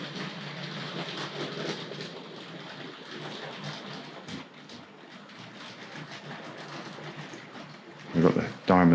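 A Tri-ang Railways RS.2 express passenger toy train set runs over model railway track with a continuous rattling, clicking roll, fairly close, while someone talks over it, with louder thumps near the end.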